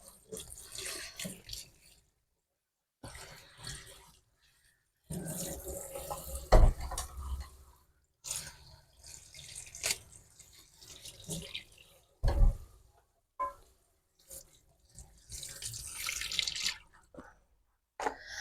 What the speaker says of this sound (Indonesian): Ini mau saya cuci dulu sebelum dipotong-potong.